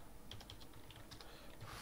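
Keys tapped on a computer keyboard while entering a Linux find command, a quick, soft, evenly paced burst of light clicks at low volume, with no voices.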